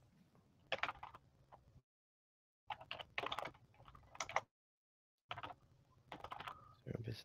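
Bursts of typing on a computer keyboard, quick clustered keystrokes separated by short silent pauses, close and fairly quiet.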